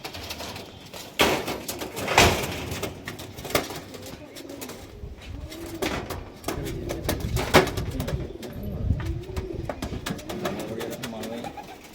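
Racing pigeons released into the air, their wings flapping in several bursts while soft coos sound nearby.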